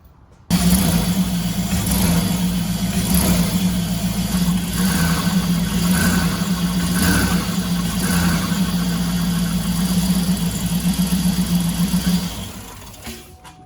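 The 6.2 V8 of a 2007 Cadillac Escalade runs on a test after a driver-side motor mount repair, a steady close idle with a faint hum and light revving that settles and cuts off near the end.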